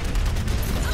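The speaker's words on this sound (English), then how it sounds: "Whenever you hear that little da-da-da-da-da, that means that Chappie has gone into tank mode." Chappie switching into tank mode in a video game gives a short, loud burst of rapid, rattling staccato hits, like a quick mechanical drumroll, packed into under a second.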